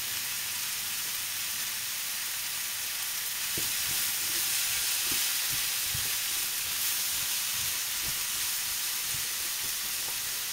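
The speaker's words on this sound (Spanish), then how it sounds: "Y lo ponemos a cocer." Onion, spring onion and red pepper sizzle in a pan, a steady close frying hiss broken by occasional soft clicks and stirring sounds, with no talk.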